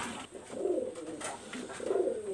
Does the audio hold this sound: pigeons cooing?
yes